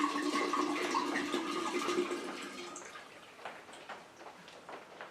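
Liquid pours steadily from a 750 ml bottle of gold rum, a loud gurgling stream for about three seconds that thins into scattered drips and splashes.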